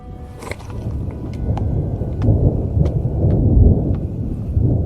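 Thunder rumbles in the Uinta Mountains on a high pass, a deep continuous roll that swells and stays loud throughout, with faint crackling overhead and no voices.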